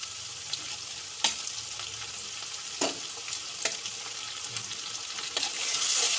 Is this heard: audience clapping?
no